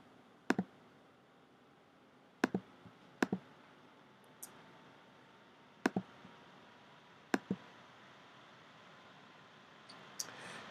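A computer mouse clicks sharply while templates are deleted on a Weebly site, a handful of crisp, close double clicks spaced a second or two apart over a quiet room hiss.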